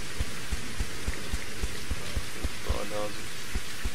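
Steady rain in the survival video game Reign Of Kings, a continuous hiss of falling water with a regular low thumping underneath, while a voice speaks briefly near the end.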